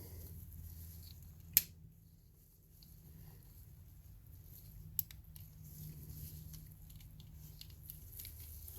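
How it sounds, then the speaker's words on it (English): A plastic electric window switch from a BMW E92 320i M Sport snaps back into its housing, a single faint sharp click followed by a smaller click a few seconds later in a quiet room. "I'll click this back into place."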